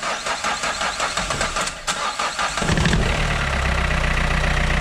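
Renault 1.5 dCi K9K diesel engine from a 2010 car cranking for about two and a half seconds with a rhythmic starter churn, then catching and settling into a loud, steady idle close by.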